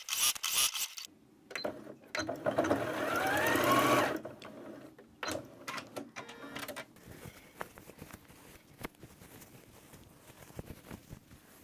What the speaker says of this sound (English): So I've pinned them together and I'm just going to sew around the top.